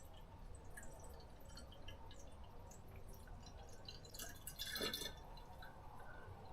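Water filling a bottle in a greenhouse, a soft continuous trickle and dripping at low level, swelling briefly near the end, with no talk.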